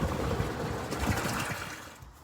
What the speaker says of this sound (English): All right, water's almost full.